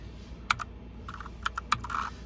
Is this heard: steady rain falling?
no